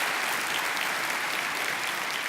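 Steady applause fills a church service at a Kwibuka 25 commemoration, a dense, even clapping from the congregation lasting a couple of seconds without pause.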